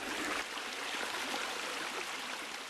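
Cool mountain valley stream in a quiet summer forest, water rushing and burbling in a steady, dense wash with no break, close and fairly even throughout.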